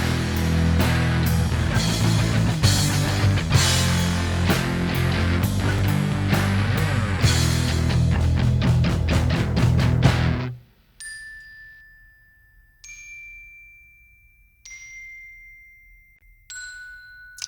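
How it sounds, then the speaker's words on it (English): A glockenspiel from the BBC Symphony Orchestra VST sounds in a song: after a dense full mix stops abruptly, a few clear, bright struck notes ring out alone with long decays, spaced a couple of seconds apart. "I actually used this VST for the Glockenspiel called the BBC Symphony Orchestra VST."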